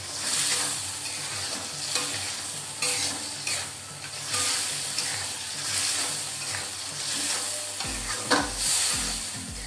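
Spicy peanuts and anchovies sizzle and bubble in a pan as the liquid cooks down, with steady stirring scrapes over a continuous frying hiss; close and fairly loud, with no voices.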